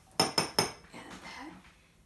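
A spoon taps three quick, bright clinks against a mug while adding a tablespoon of cocoa powder, then scrapes softly as the clinks fade away.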